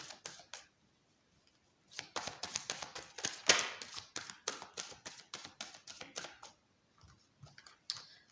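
Tarot cards shuffled by hand at a reading table, a run of quick papery riffles and taps with short pauses, close and fairly quiet, with no voices.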